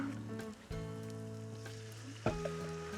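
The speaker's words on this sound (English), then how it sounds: "So once the rice has been frying away there for about 3 minutes" Rice fries in a pan with a steady, close sizzle and crackle, a dense hiss that runs without a break, with a couple of sharper clatters as it is stirred; no one talks.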